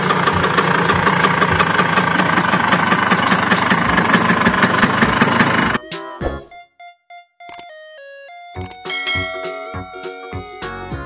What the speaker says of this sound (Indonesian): Motor Vespa.